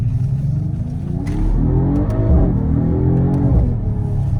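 A Mercedes-AMG GT 4-Door sports car engine rumbles low and then revs up, a rising throaty growl with a few sharp clicks, close and fairly loud, heard from the rear.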